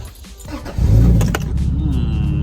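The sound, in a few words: sports car engine starting up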